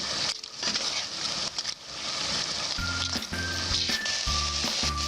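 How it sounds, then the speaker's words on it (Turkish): Chunks of meat sauté in a hot pan with a loud, continuous close sizzle and occasional stirring scrapes, while faint background music plays. "Kavurmaya devam ediyoruz"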